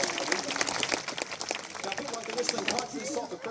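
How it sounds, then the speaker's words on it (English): An audience claps through a bird show featuring a soft-crested cockatoo at a Melbourne sanctuary, a steady spread of many hands at moderate level, with speech partly mixed in beneath. "maybe give Quasi a little round of applause as well"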